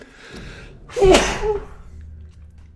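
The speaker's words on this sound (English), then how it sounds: "God, I gotta sneeze." A single loud sneeze up close, preceded by a short sharp inhale and followed by a fading breath.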